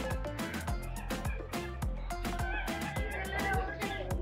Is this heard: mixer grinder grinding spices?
no